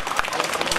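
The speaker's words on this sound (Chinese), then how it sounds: "我们请现场的观众给他们一个热烈的鼓掌" A live audience at the Tainan city food festival claps in a short burst of applause, dense and steady throughout without a clear break.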